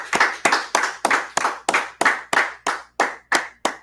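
A group claps at the end of a class, giving eleven sharp, evenly spaced, loud claps in a steady rhythm over about four seconds, with no voices.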